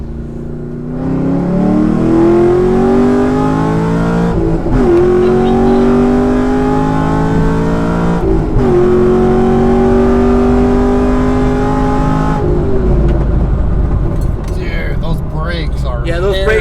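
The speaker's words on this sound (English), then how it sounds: "it's my first time driving a Z28" A Camaro Z28's V8 engine revs hard through several gears, each pull rising in pitch before a quick shift, loud and close from inside the car.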